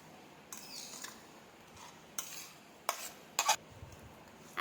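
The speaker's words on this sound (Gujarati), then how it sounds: "હવે તેમાં આપણે ગોળ ઘીનો પાયો નાખી દઈએ. તેને મિક્સ કરી લઈએ." A spoon scrapes and clinks in a bowl as jaggery-ghee syrup is mixed into a churma mixture, giving quiet, intermittent scraping with a few sharper clinks and no talking.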